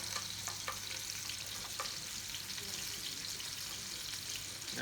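Tandoori lamb burgers fry steadily in a pan, giving a constant bright sizzle and crackle, with a few scraping stirs and clinks near the start.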